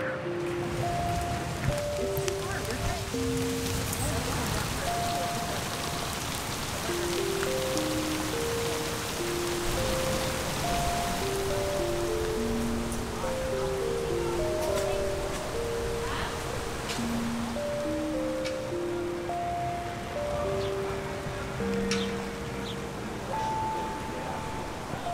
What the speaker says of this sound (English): Enjoy this rain ambiance here at the Boardwalk.